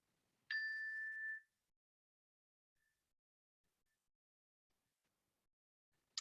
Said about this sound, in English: I'll ring a bell just as another reminder to be here now.